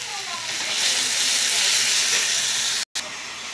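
Spice paste with tomato and turmeric frying in a pan makes a steady, fairly loud broadband sizzle that cuts out briefly near the end, then resumes.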